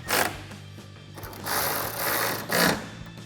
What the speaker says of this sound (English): tighten those down with a 10mm socket